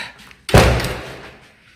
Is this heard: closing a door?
yes